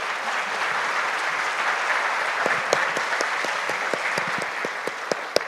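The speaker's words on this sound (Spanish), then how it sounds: "Un aplauso para los panelistas." Audience applause for a business panel on circular economy financing, a steady wash of many hands clapping for several seconds, with a few sharper individual claps standing out near the end.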